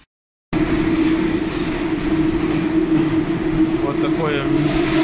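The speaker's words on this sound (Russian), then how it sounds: "Вот так вот выглядит станция в Казани." Metro train at Aviastroitelnaya station in Kazan, a loud steady rolling drone with hum and rail noise filling the platform after a brief silence, with faint squeals near the end and some background voices.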